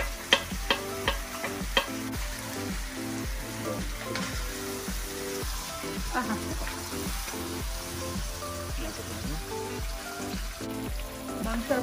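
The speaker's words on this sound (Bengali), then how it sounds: "মাংস এখন কষানো হচ্ছে।" Mutton for curry stir-fried in a pan, a steady sizzle with rhythmic scraping and stirring strokes throughout, loud and close, no talking.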